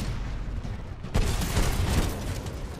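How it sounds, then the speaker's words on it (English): Dense, booming weapon fire and explosions in the video game Titanfall 2, a continuous rumbling barrage that swells louder partway through as a mag launcher fires nearby. "there's a mag launcher on my ass"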